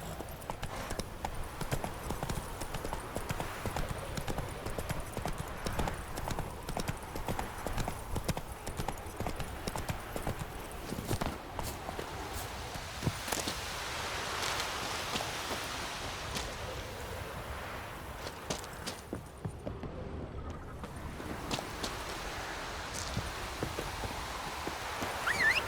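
Roach, a horse in The Witcher 3, gallops with steady rapid hoof clip-clop throughout, with wind and a faint wash like surf behind, briefly thinning near the end.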